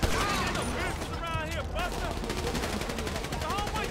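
Pistol shots crack in GTA Online, a dense run of rapid, loud bangs that continues without pause, with voices faintly mixed in.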